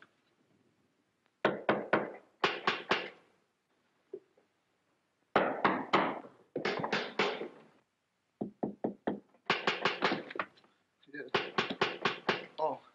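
Pounding on a door in a 1930s comedy film, loud bursts of rapid heavy knocks in separate clusters with short pauses between them, close and dominant.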